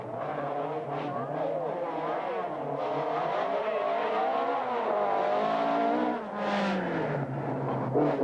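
Opel Ascona rally cars racing on the 1987 Cork 20 rally, with loud engines revving and changing pitch close by, easing off briefly before a final surge.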